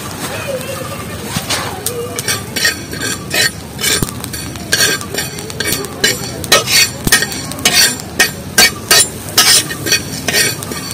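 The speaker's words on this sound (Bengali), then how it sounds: "একদম কালো করে ভেজে নেব, পুরো একদম কালো হয়ে গেছে।" Black sesame seeds and cumin frying in a pan until charred black, with a steady sizzle and repeated scraping and stirring clinks from a utensil, close and fairly loud.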